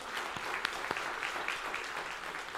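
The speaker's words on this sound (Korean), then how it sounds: "여러분 박수 한번 해주시겠어요?" A church congregation at a Sunday service applauds, a soft, even wash of many hands clapping together, steady throughout and somewhat distant, with a few sharper claps standing out and no speech over it.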